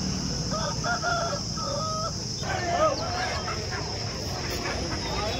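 A rooster crows in a drawn-out call, followed by clucking fowl, over a constant background hum, at a country chicken market.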